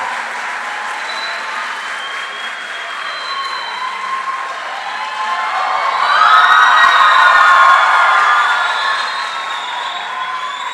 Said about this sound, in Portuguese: você pode aplaudir essa serva de Deus